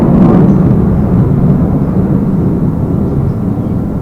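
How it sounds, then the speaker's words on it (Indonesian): A loud airplane roars overhead, a dense, continuous low rumble that stays strong and slowly eases slightly across the few seconds, with no voices. "pesawat lewat, kita biarkan dulu karena mengganggu suara."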